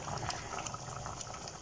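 Spicy fresh mud-crab curry bubbles steadily in a cooking pot, a soft continuous simmer with small popping bursts, close and fairly quiet with no voices.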